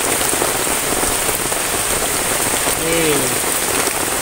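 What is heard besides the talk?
heavy rain falling in the forest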